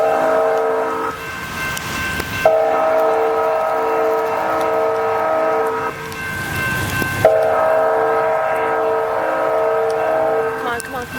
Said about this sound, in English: Train number 6 at the Adams Street crossing.